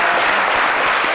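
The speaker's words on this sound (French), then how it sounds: "On va tous applaudir Caroline Da Silva, s'il vous plaît." A studio audience claps in dense, sustained applause, loud and close, filling the whole moment without a break.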